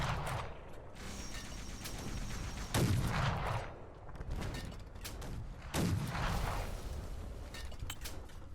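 Several muffled booms of distant gunfire in the video game Fallout: The Frontier sound at a few-second intervals over a low mechanical clatter, with no talking.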